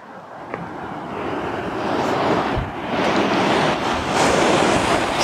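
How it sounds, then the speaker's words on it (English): Steady, blustery wind on a sea cliff roars across the microphone with a broad rushing hiss, surf-like surges rising and falling throughout, no voices. "It's a little windy today"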